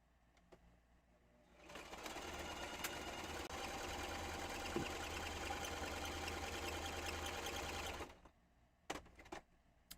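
A sewing machine stitches a pieced fabric bag in one steady, continuous run of about six seconds, fairly close and even, with short quiet handling noises on either side.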